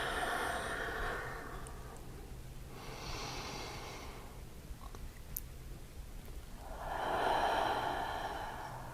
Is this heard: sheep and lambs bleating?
no